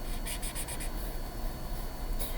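Marker or chalk writing on a classroom board during a lesson: faint, brief scratchy strokes in short bursts over a quiet room hum.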